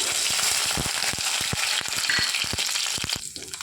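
Green chillies fry in a couple of spoons of hot oil for tomato chutney, giving a dense close sizzle with sharp irregular pops and crackles throughout, no talking.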